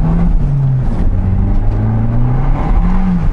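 An Abarth 695 Rivale accelerating hard, its engine note climbing in repeated rising sweeps as it works through the gears, loud and close, heard from inside the car.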